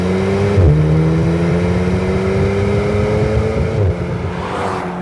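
An Alpine A110 with a turbocharged four-cylinder engine pulls hard under acceleration, its steady drone climbing in pitch, dipping briefly at a gearshift near the start and again later, loud and close throughout.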